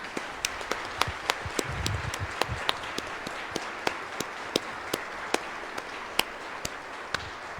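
During a Sunday Mass at a parish church, the congregation welcomes two new altar servers with sparse, sharp individual claps that land roughly every third of a second over a low room rumble.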